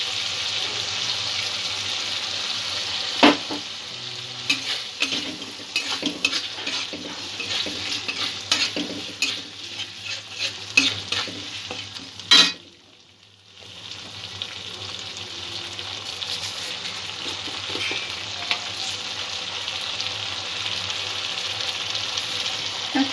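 A cashew-and-milk paste with other ingredients and sugar is stirred and sautéed in a pan, steady sizzling broken by frequent scraping stirs and utensil knocks, with a brief lull midway and no talk.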